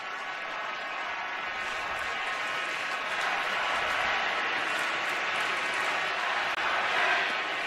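Sellout baseball crowd of over forty thousand at a Yankees versus Phillies game, a broad distant roar of voices swelling louder midway, the chant blurred into steady crowd noise.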